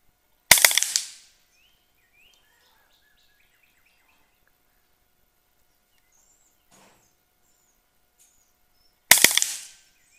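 An Air Arms LCS SK-19 .22 air rifle fires two sharp, loud cracks about nine seconds apart, each with a brief decay. Faint birdsong is heard in the quiet between the shots.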